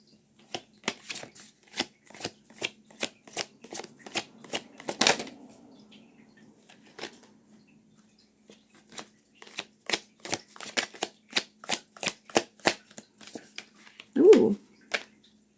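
A deck of cards is riffled and shuffled in repeated quick rattling bursts, close and crisp, with a short pause midway and a brief dog whimper near the end.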